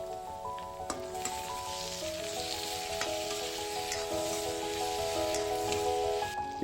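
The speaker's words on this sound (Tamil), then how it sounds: "நறுக்கி வச்சுருந்த 2 தக்காளியை நம்ம சேர்த்துட்டு நல்லா வதக்கிக்கலாம்." Tomatoes sizzling and frying in a hot pan for a curry, a steady crackling hiss with faint background music tones.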